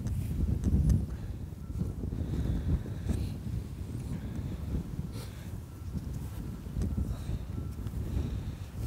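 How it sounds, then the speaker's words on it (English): Strong outdoor wind buffets the microphone during a metal detecting hunt on farmland permission, a loud continuous low rumble with gusts swelling and easing throughout, no one speaking. "Just the wind is brutal."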